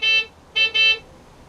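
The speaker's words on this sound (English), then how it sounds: "the more car horns you hear, the better your score" Car horns sound as a scoring signal at the end of the 2002 Harry Potter Whomping Willow video game: two loud, bright honks, the second a double pulse, with no talk.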